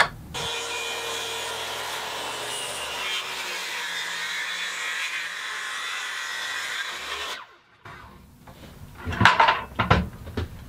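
Steady sawing through elm wood, a continuous rasping grind that stops abruptly, followed by a few knocks and handling sounds.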